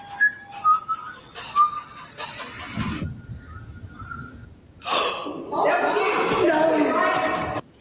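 A person whistles a short tune in several clear, separate pitched phrases, close and fairly loud, followed by gasps, breathing and lively talk and reactions from others.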